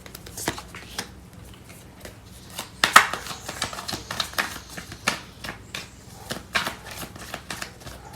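Tarot cards shuffled by hand for a love reading, a steady run of crisp riffling snaps and soft papery flicks at close range, continuing for several seconds with no talking.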